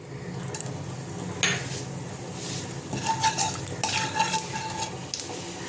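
Black cumin seeds dropped into hot oil in a wok, a soft steady sizzle joined by scraping and clattering of a utensil against the pan, close by with no talk.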